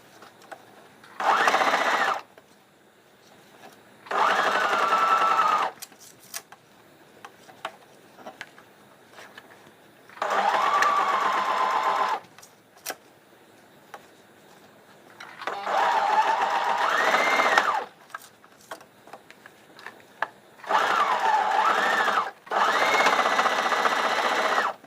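A sewing machine stitches the openings of a bridal potli bag closed, running in five or six steady whirring bursts of a couple of seconds each, separated by quiet pauses with small clicks and handling noises.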